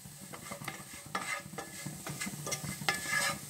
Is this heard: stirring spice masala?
yes